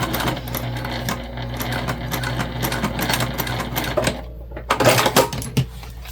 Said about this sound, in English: Again, back stitching as always,